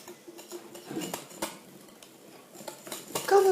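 A spoon or whisk working cheesecake batter of fromage blanc, egg and sugar in a bowl, soft irregular taps and scrapes with light clinks against the bowl, close and fairly quiet.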